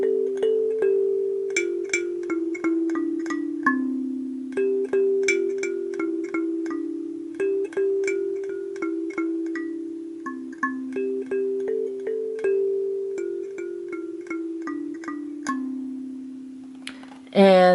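A kalimba plucks a simple single-note tab melody, each tine struck cleanly and left to ring in a steady, unhurried rhythm, close and clear with no voices.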